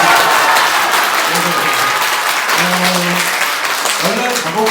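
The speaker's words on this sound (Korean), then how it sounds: "환호하면서 박수 치시고" A concert audience at a Korean traditional vocal music recital bursts into loud, full applause mixed with cheering and whoops, sustained across the whole stretch with brief tonal voice-like calls rising through it.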